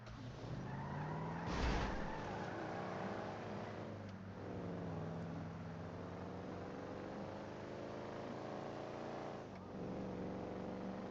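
Car engine in the game GTA V on a FiveM roleplay server, a steady droning motor with a brief louder surge and rushing swells as it drives, holding fairly consistent under no speech.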